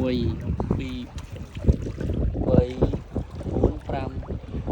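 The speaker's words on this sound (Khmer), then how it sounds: "យើងអុំទូកយ៉ាងឆ្ងាយ" Oars working a small boat on open water, with irregular splashes and wind noise close to the microphone, and people talking over it.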